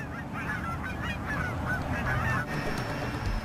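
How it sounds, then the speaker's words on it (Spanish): Resident Canada geese honk repeatedly in a dense, overlapping flock chorus, steady and fairly close against a constant rumbling outdoor background. "Hubo un extraordinario aumento de gansos canadienses, que son residentes, no migratorios."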